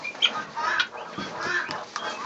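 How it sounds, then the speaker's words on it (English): Backyard chickens feeding on leftover soup: soft clucks and murmuring calls close by, overlapping in a busy, continuous flock chatter. "we figured the chickens would like it, so they all came down to have a snack"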